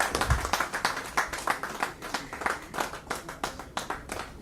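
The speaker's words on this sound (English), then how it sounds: "Can we have a round of applause for him," An audience at a business conclave claps in a quick, irregular patter of individual hand claps, close and fairly dense, lasting the whole stretch without talk.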